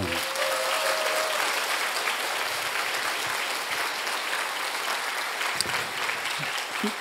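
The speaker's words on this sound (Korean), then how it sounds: "우리 예원의 군사들이 뜨거운 박수로 한번 격려해 드립시다." Sustained applause from an audience at a church lecture fills the hall steadily and loudly throughout, with a brief voice near the start.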